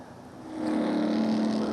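Race car engine heard during the 2015 Sahlen's Six Hours of The Glen sports car endurance race: a steady, humming engine drone that swells louder about halfway through and then holds at a strong, even level.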